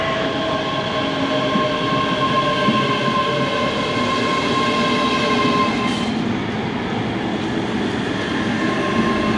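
A passenger train rolls along a scenic UK line from Glasgow Queen Street toward Mallaig, heard from inside as a continuous loud rumble with a steady whine and no voices.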